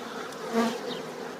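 Close, steady buzzing of many honeybees at a hive, with one brief swell in loudness partway through; no voices.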